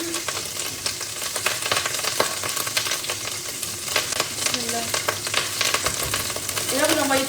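Onions, leeks and carrots hiss loudly in a hot pan while a utensil scrapes and stirs them, the steady sizzle close and busy, with a few brief vocal sounds near the end.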